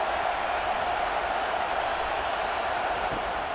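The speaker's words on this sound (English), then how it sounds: "this crowd is turning it up a notch" Dense, steady roar of a college football stadium crowd during a playoff game, a continuous wall of cheering and noise with no breaks, loud and far-spread.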